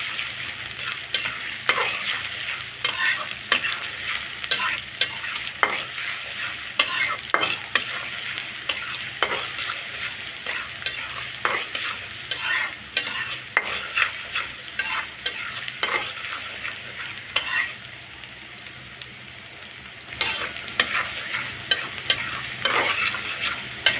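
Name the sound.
green chili slices lightly frying in a pan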